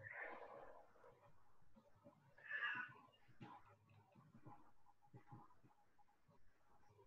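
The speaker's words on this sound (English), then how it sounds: "My cat is hungry," A cat meows twice, softly and at a distance. Both meows are faint against a quiet room.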